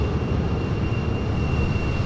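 A steady, loud roar of an F-15E Strike Eagle jet engine at cruise in the Microsoft Flight Simulator 2020 game, with a faint high whine over the continuous drone, and no talk.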